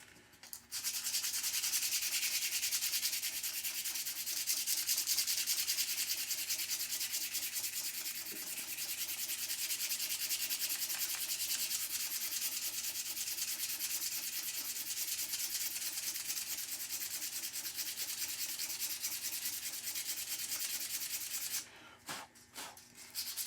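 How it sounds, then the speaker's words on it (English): A bow is hand-sanded with a small piece of 220-grit sandpaper, giving a steady, close scratchy rubbing that runs almost without pause for about twenty seconds before stopping briefly near the end. "Now sanding this out is real easy. I just got a little piece of 220 here."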